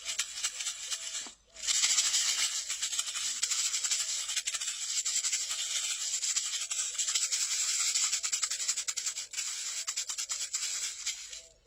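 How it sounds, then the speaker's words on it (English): A handmade shamanic rattle is shaken steadily at close range, making a dense, continuous bright hiss of beads. It stops briefly near the start and then runs on for a long stretch. "So there you have that rattle. Quite nice."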